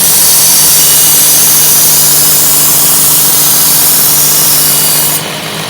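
A Work Sharp Ken Onion Edition electric knife sharpener grinds a knife blade on its belt to break off the burr, giving a loud, steady abrasive whir that fades slightly near the end.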